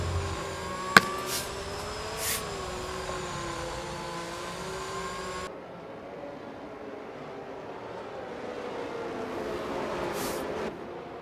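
F1 cars running behind the safety car on the Singapore circuit in a racing video game, engines droning steadily at moderate level with a brief click near the start and a change in tone halfway through.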